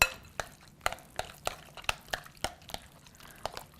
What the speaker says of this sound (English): we're going to mix that around